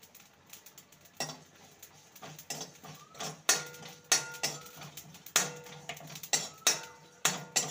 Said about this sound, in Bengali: 1 টিস্পুন গোটা জিরে আর 1 টিস্পুন পাঁচফোড়ন শুকনো খোলায় ভেজে নেব।